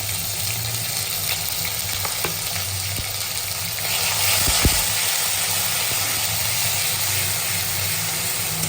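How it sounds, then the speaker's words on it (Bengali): Sliced onions frying with garlic paste and ginger paste in hot oil, a steady loud sizzle throughout with a few soft clicks of stirring and a brief swell partway through. "পেঁয়াজগুলো যখন বাদামি রং হয়ে আসবে তখন আস্তে আস্তে আমরা রসুন বাটা আদা বাটা দিয়ে দিব"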